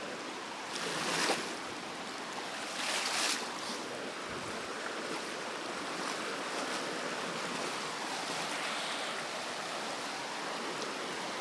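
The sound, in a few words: river flowing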